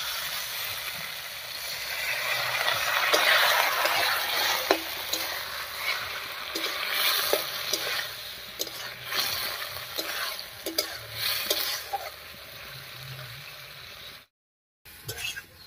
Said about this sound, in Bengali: এবার একটুখানি জল দিয়ে ভেন্ডিটাকেও কষিয়ে নেব।